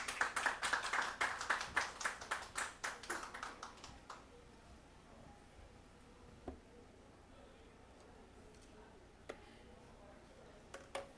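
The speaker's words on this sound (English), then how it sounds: "Please welcome her with a big round of applause." Audience applause welcoming a speaker onto the stage at a climate cooperation conference, a brief burst of clapping that fades within a few seconds, followed by a quiet room with a few isolated taps.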